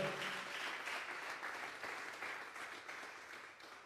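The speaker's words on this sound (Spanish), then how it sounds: "Vamos a darle una ofrenda de palmas a Dios en esta hora" Congregation at a Spanish-language Sunday service clapping as an offering to God, a continuous roomy wash of many hands, fairly distant and soft, slowly fading toward the end.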